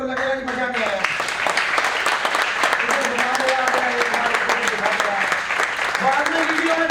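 Seminar audience claps steadily in a dense, sustained burst of applause, close and loud throughout, with a voice talking over it.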